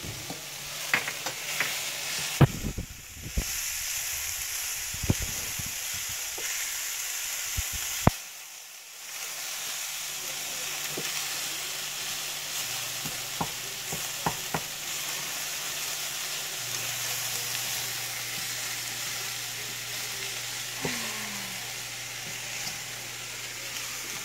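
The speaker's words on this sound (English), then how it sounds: "make sure we stir the onions and the celery and mix that all together." Onions and celery being stirred in a frying pan for a dairy-free buffalo chicken dip, a steady sizzle with scraping spoon strokes, a brief pause midway, then continued close frying and stirring.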